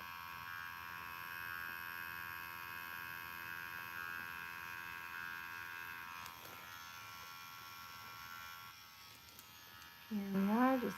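Tattoo machine buzzing steadily while tattooing an Iron Man and Dr. Doom design on a calf, a continuous close electric whine, with a brief voice near the end.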